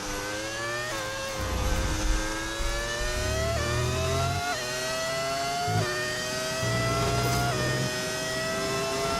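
A modded early-2000s V10 racing engine in the F1 25 game screams through repeated upshifts, each climbing wail dropping briefly at a gear change before rising again, loud and continuous with no talk.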